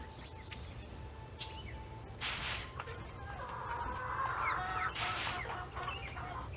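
Chickens clucking in the Nancy Drew: Shadow Ranch game, a few short bursts of calls over a steady low background hum, moderately close and fairly soft.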